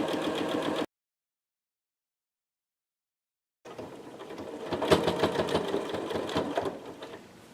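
A sewing machine stitches a shirt during an alteration: a short run of stitching, a silent pause of about three seconds, then a longer, steady whirring run that continues to the end.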